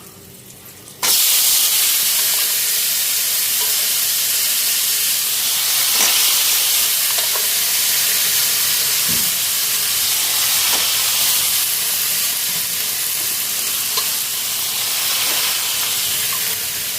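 Washed vegetables frying in a pan in a home kitchen give a loud, steady sizzling hiss that starts abruptly and holds close and continuous throughout, with a few faint clinks.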